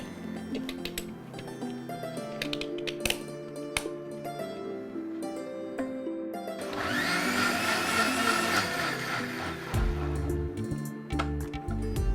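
A mixer blends a millet drink with ice cubes: ice rattles and clinks at first, then the motor whirs up into a loud, steady churning roar before winding down, with a low hum under it.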